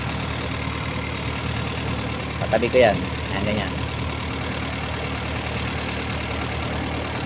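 A car engine idles steadily after fully warming up, its constant mid-low rumble running throughout while someone talks briefly over it near the middle.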